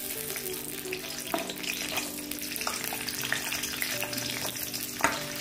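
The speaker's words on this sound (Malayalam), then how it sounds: "വെളിച്ചെണ്ണ നന്നായിട്ട് ചൂടായി കഴിയുമ്പോൾ നമുക്ക് ഈ മുളക് അങ്ങോട്ട് ഇട്ട് കൊടുക്കാം" Red chilies fry in hot coconut oil for a roasted chutney, giving a steady, close sizzle with occasional stirring scrapes and clinks and no talking.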